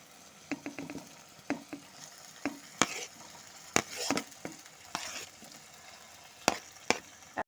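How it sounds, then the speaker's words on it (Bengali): Potatoes and cauliflower being stir-fried with spices in a pan: irregular scraping spoon strokes and sharp metal clinks over a constant soft sizzle, close by and with no speech. "এখন সমস্ত মশলার সাথে আলু ফুলকপিটাকে ভালো মতো করে কষে নেব"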